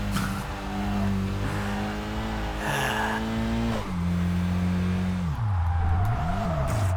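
An engine in a Kaido Racer 2 car sits stuck in first gear, revving hard in long, loud sustained drones with shifting pitch, dipping and climbing again near the end, with no talk over it.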